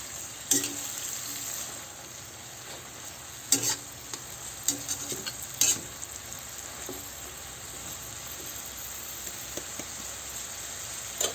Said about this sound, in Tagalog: Ayan, haluin lang natin ito.